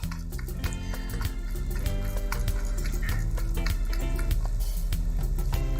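Hands squeeze and work chopped okra with a little water, giving continuous wet squishing and dripping, close and steady, with a tonal hum running underneath.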